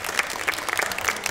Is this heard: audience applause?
yes